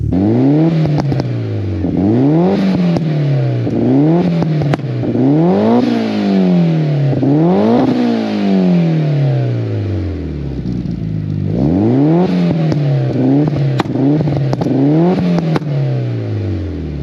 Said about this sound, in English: there is our exhaust system